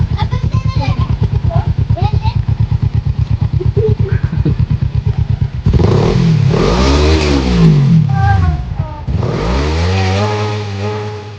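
A motorcycle engine idles with a rapid, even putter, then revs hard in rising and falling surges as it pulls away, loud and close, with people talking nearby.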